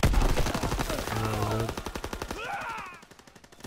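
Rapid automatic gunfire from Call of Duty WW2 gameplay, used as suppressing fire, rattles in quick close bursts through most of the stretch, with brief game effects mixed in.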